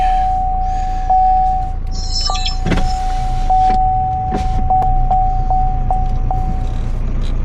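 Inside a car, a steady tone hums alongside an electric motor whirring, broken by several sharp clicks and knocks at irregular intervals.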